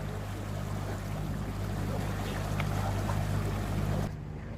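A sailboat motoring under engine power across Albemarle Sound, with a steady low engine drone and water rush that run continuously at close range before cutting off abruptly near the end.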